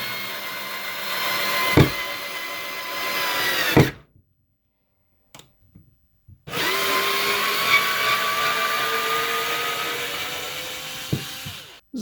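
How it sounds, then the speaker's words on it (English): A small cordless screwdriver driving screws whirs in loud bursts, stopping briefly in the middle before revving again at length, with a few clicks. "one of the main functions of a little cordless screwdriver like this"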